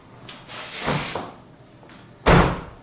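Doors on a Toyota Camry are worked by hand: a couple of softer clunks and rattles, then one firm, close slam near the end, with quiet gaps between.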